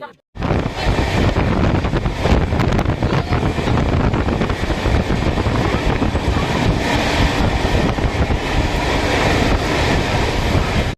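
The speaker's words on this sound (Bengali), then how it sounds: "এখন আমাদের ট্রেন বহু স্পিডে চলছে" Shalimar–Puri Superfast Express 12895 running at high speed at night, a loud, continuous roar of wheels on rails mixed with wind rush, steady throughout after a brief silent start.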